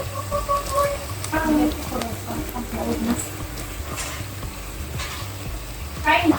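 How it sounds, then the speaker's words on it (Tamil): Sweet corn cheese balls frying over medium flame in a paniyaram pan: a soft continuous sizzle with light spoon clinks and scrapes, close and moderate, under a person talking. "நம்ம உருட்டி வச்சிருந்த எல்லா உண்டையும் இப்போ உண்டை சட்டியில் போட்டாச்சு. மீடியம் ஃப்ளேம் வச்சு வேக வச்சுக்கலாம்."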